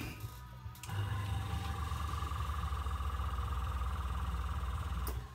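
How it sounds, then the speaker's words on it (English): An airbrush air compressor switches on after a moment of quieter room noise, then runs with a steady low motor hum and rattling vibration, moderately quiet and continuous until a faint click near the end. "I'll turn my compressor on."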